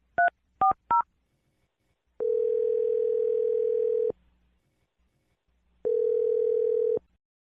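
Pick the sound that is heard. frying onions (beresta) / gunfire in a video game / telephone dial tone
telephone dial tone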